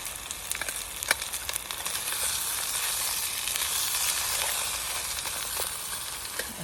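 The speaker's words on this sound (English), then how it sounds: "we've got a nice little sizzle going on here" Steady sizzling hiss of food frying in a hot pan, with occasional pops and crackles, close and constant.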